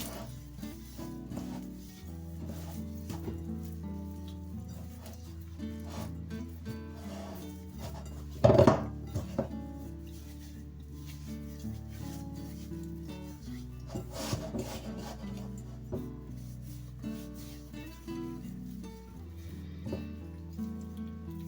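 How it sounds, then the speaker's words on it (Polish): Hands rub spices into a raw pork loin, producing a continuous close, dry scraping and rasping with slow back-and-forth rhythm and one brief louder knock partway through. "I dokładnie nacieramy mięso z każdej strony."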